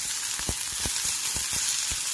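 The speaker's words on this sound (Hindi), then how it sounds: "प्याज को गोल्डन ब्राउन होने तक अच्छे से भून लें।" Onions fry in a little oil in a pan, a bright continuous sizzle up close, broken by several quick stirring scrapes that come at an uneven rhythm.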